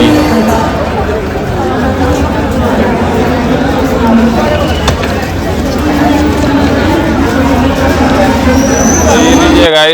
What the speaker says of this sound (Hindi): तो ये एक कुंभ के लिए आए हुए लोग और श्रद्धालुओं की भीड़ है